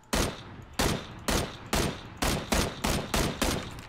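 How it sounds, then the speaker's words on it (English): Rapid gunfire from an enemy player near Wizard Tower in PUBG, eight loud sharp shots in a fairly even rhythm with short pauses between, no talking. "There's a guy to the right of Wizard Tower shooting."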